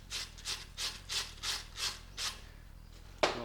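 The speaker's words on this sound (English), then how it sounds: "And I'm going to clean my weld off." A weld on a 1940s Chevy passenger shock absorber being cleaned off by hand, about seven rhythmic scraping strokes at an even pace, close and moderately loud, ending in a sharp knock.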